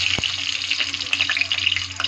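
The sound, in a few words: dried red chilli frying in hot oil in a kadai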